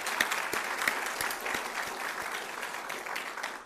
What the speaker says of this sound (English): she should have some applause